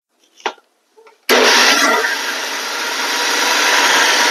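A kitchen mixer grinder whirs loudly, blending soaked rice and soft poha into batter; after a couple of brief knocks it starts abruptly and runs at a steady, high-pitched roar for several seconds.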